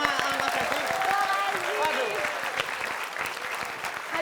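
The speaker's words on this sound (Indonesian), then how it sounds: "kita berikan tepuk tangan dulu untuk Mbak Nunung sama Mas Sofi" Studio audience applause on an Indonesian comedy show, steady clapping filling the room with a presenter talking over it the whole time.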